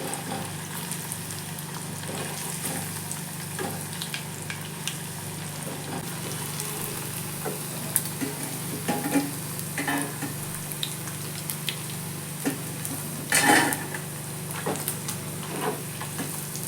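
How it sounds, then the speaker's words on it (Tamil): Paneer frying in a pan over a low flame gives a steady, soft sizzle and crackle that runs throughout, with a few brief louder pops and stirring sounds partway through. "லோ ஃப்ளேமில் வச்சு மிதமான சூட்டில் தான் நான் பொரிக்கிறேன்"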